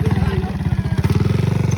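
A small 125cc motorcycle engine putters at a fast, even pulse close up, steady and loud throughout.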